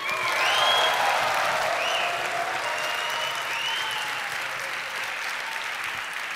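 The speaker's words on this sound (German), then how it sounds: "Ein Applaus für Björn, einen ehrlichen." Sustained applause from a talk-series audience welcoming a panelist, many hands clapping loudly at first then easing slightly, with a few whoops rising above it.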